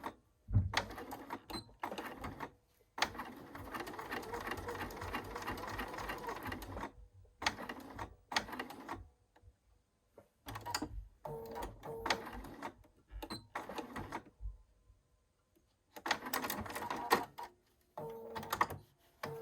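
A sewing machine stitches along the curved bottom edge of a pants piece in bursts of rapid, even mechanical whirring, each run broken by short silent pauses, close and moderately loud.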